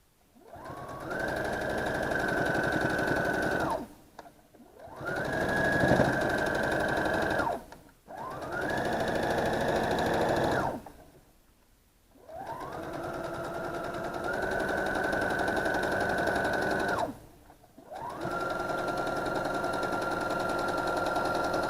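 A sewing machine stitches around the edge of a fabric quilt at an eighth of an inch, running in long steady bursts of whirring with short pauses between them to reposition the fabric.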